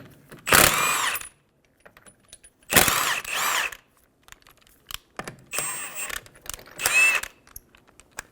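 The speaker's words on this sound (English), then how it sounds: "remove the 5 lug nuts." A 21mm socket spins the five lug nuts off the rear wheel of a 2007-2011 Toyota Camry, giving four loud, close whirring bursts separated by short pauses, with no talking.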